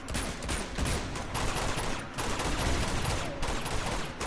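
Gunfire in the video game Uncharted 2: Among Thieves, a dense run of shots filling the whole stretch at steady loudness, with no talking over it.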